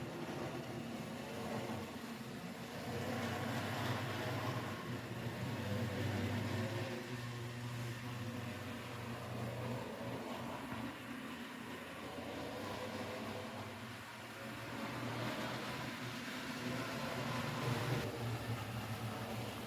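A model fantasy C1-A duplex steam locomotive pulling box cars runs along its track and across a suspension bridge, giving a steady, fairly loud mechanical hum and rumble throughout with slight swells, no voices.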